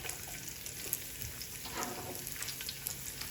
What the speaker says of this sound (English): you're going to add that to the mix of the remainder of the olive oil. So add your garlic